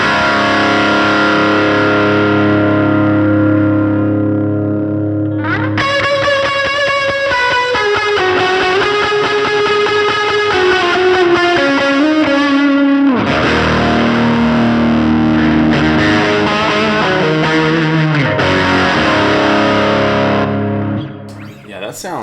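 Electric guitar driven through a Timmy overdrive pedal, playing overdriven chords and riffs with a sustained, gritty tone that carries steadily for most of the stretch before fading out at the end.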